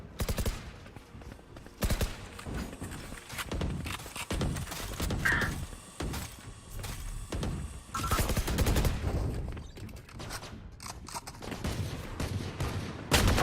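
Dense bursts of gunfire from the tactical shooter Valorant during a competitive semi-final match, with rapid volleys and overlapping shots rattling on and off through the whole stretch.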